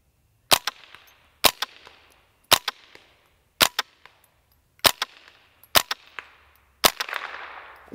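A KRISS DMK 22 rifle fires tracer rounds at steel plates, seven sharp, loud reports spaced about a second apart, each with a brief ringing tail as rounds strike the steel, with no talk.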